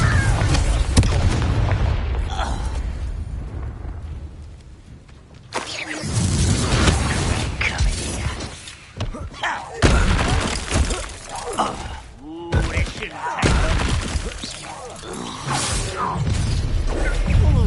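Confringo fire-blast spells cast in combat in Hogwarts Legacy: several loud bursting explosions with crackling and shattering debris, separated by brief lulls, mixed with game sound effects.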